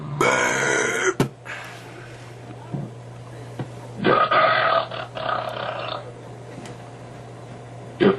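A person lets out loud, deep burps, a long one at the start and another rolling one midway, with a few short throat sounds between, close to the mic.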